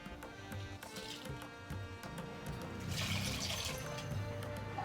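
Water poured into dal while making Tamil rasam, a soft gurgling, splashing stream into a pot that grows fuller and louder partway through, heard close with faint kitchen hum beneath.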